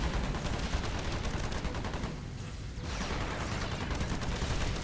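Dense, continuous gunfire and missile launches from weapons in Earth Defense Force: Insect Armageddon, a loud, relentless rapid rattle with one brief lull near the middle.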